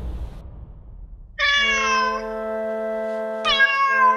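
A kitten lets out two loud, drawn-out, high meows close by, the second starting sharply after a brief pause, with no talking over them.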